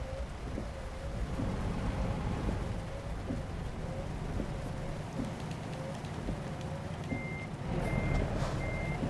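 Reversing beeps from a truck in American Truck Simulator, a steady repeating beep pattern over continuous engine rumble and rain-like noise, with no talking.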